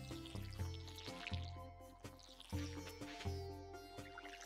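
Watering can pouring onto crops in the farming game Stardew Valley: short splashing, dripping bursts repeat in a steady rhythm over the game's background music.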